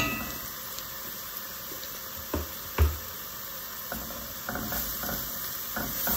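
Chicken giblets and garlic sauté in a pan for a Portuguese giblet feijoada, giving a steady, quiet sizzle with a few stirring scrapes and clinks, one slightly louder knock partway through.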